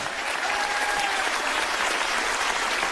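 Steady applause from a live studio audience at a comedy show broadcast from Paris, a dense continuous wash of clapping at an even level throughout with no pauses.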